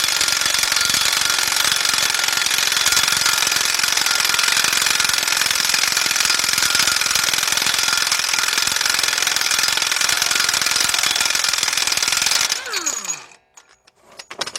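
A Harbor Freight Earthquake impact wrench drives a 1 1/4 inch deep socket on a 1/2 inch drive during transmission work on a Chrysler/Dodge car, hammering loudly and continuously for about twelve seconds before abruptly stopping.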